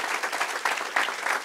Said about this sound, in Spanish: So we can give the Lord a strong hand clap.